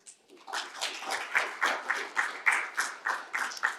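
At an innovation showcase award ceremony, a small group claps in a rhythmic, evenly paced pattern of about a dozen beats that starts soft and holds steady, moderately close.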